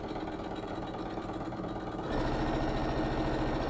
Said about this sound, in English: a bit of speedy sewing